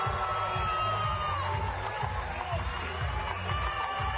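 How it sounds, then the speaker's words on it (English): Brazilian supporters in the stands roaring and whooping after winning the women's beach handball final at the 2017 World Games, a continuous excited crowd din with a commentator talking over it. "The Brazilian fans who've made the long journey in the crowd go wild"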